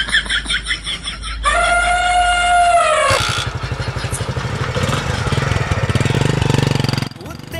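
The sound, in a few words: motorbike engine idling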